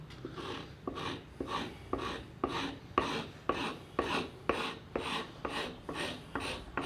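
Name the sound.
wood chisel used as a scraper, leveling hardwood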